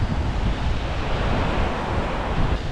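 A river strong enough to have destroyed a bridge rushes in a dense, steady roar during a winter backpacking trip, with heavy wind buffeting the microphone throughout.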